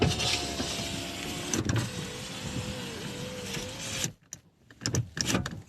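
Front electric windows of a Citroen XM run in a garage, a steady whirring motor hum lasting several seconds that stops abruptly, followed by a couple of brief thumps and clicks.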